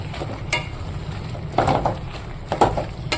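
A spoon scrapes and knocks around a cooking pot as a cumin-spiced dish is stirred, with three distinct clatters spaced about a second apart over a low, steady background hum.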